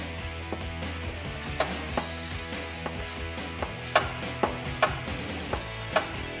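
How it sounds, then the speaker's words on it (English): Hand ratchet tightening 15mm bracket bolts on a 2004-2018 Ford F150, a steady run of close metallic clicks with sharper accented ticks at irregular intervals, no talking. "Go ahead and retighten those rear 15mm bolts that we loosened earlier using your air gun with that swivel or your hand ratchet."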